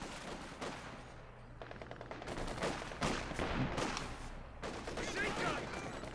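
Sustained gunfire from the World War II strategy game Company of Heroes 2, with German forces pushing against British Royal Engineers: dense overlapping machine-gun bursts and rifle shots, fairly loud and continuous, with rattling volleys rising and falling and faint speech underneath.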